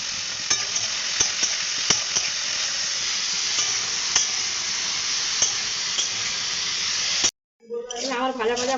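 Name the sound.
potatoes frying in oil in a pan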